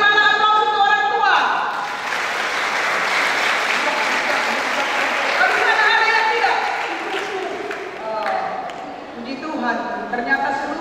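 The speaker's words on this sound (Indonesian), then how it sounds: "Ternyata seluruh siswa tepuk tangan" A crowd of high school students applauds at a Class XII farewell event, sustained clapping that swells and fades, with a voice over a loudspeaker at the start and end.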